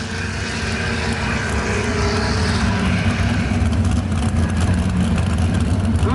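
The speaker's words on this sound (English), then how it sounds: "Great cars over here in the Duramax coming down the track on the inside." A Duramax diesel truck running down a drag strip, a loud sustained engine roar that builds and stays strong throughout.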